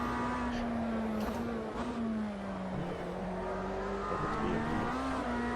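A video game race car engine, a Lamborghini, hums steadily at speed, its pitch rising and dipping slightly with gear changes, loud and continuous without any speech.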